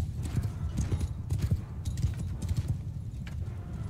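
Horses' hooves clip-clop in a large siege battle in the video game Mount & Blade II: Bannerlord, a dense, steady patter of many hoof beats close by, with no talking.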